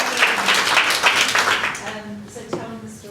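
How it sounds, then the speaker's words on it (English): A small audience applauds briefly at a coaching event, a soft run of clapping that fades out within a couple of seconds, with speech over it. "Give her a round of applause."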